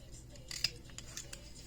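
Scissors snip a nail polish strip for a French tip, with one quiet close cut followed by a few faint clicks and handling sounds.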